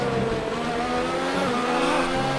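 Race car in the F1 2019 video game at the Austria circuit brakes and slides, its loud engine note sweeping downward under a constant roar of tyre and road noise.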